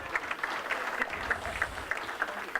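An audience at a Rotary district conference awards session gives a brief round of applause, a short burst of scattered clapping in a large room at moderate loudness.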